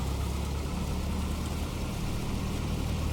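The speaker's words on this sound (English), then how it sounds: "Right, we have a good start on the engine." A single aircraft engine running steadily after start in the Prepar3D flight simulator, a continuous low droning rumble with a constant mid-range tone, even and unbroken throughout with no talk.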